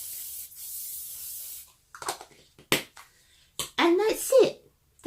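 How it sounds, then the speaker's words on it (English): Hairspray misted onto freshly set no-heat curls, a steady hissing spray lasting under two seconds at the start, followed by talking. "Then at the end of that, I just put a little bit of hairspray on."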